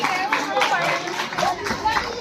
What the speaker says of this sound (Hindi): please encourage the children with your applause